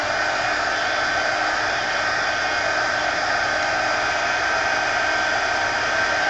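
A hair dryer runs steadily at close range, blowing hot air to dry white paint in an art journal, a continuous loud whooshing hiss with no pauses and no talking.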